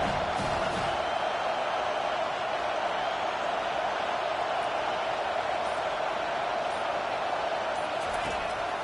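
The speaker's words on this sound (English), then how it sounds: "Decibels rising as the crowd gets behind this defense on 3rd down." Stadium crowd at an SMU versus Penn football game roars steadily on a third-down defensive stand, a dense, loud wall of noise that holds throughout with an announcer talking over it.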